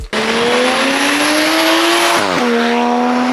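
A Toyota JZX with a turbocharged 1JZ VVTi engine, front-mount intercooler, pod filter and 3-inch custom turbo-back exhaust revs loudly and close, holding a rising drone before dropping sharply and settling again.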